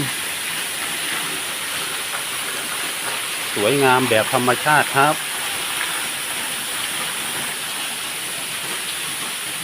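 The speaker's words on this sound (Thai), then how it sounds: "นี่คือน้ำตกถ้ำโสดานะครับ" Tham Soda waterfall in Nong Phok district, Roi Et, Thailand, makes a constant broad rushing roar throughout, and someone speaks briefly over it midway.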